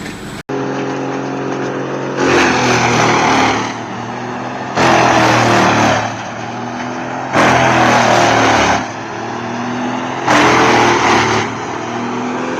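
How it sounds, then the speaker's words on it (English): A wood chipper and loader work together at a stump-grinding site, their heavy engines roaring loud and close in four surging bursts about every two and a half seconds over a constant lower rumble. "Amid the roar of engines and swirling of dust, the loader and chipper work together in perfect harmony"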